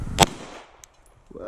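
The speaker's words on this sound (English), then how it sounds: "So we're going to do some left-handed shooting here." A single sharp gunshot fired left-handed, loud and close, then a brief quiet tail and faint noise.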